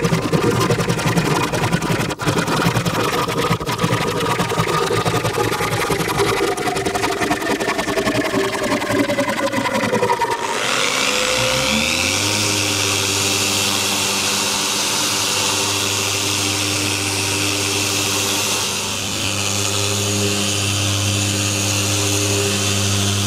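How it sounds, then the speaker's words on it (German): A power saw runs for a long stretch while cutting wood for a recycled kitchen shelf. Its steady motor whine shifts pitch as the blade loads and spins up, then holds a loud, even drone. "Ich brauche eine Säge zum Sägen."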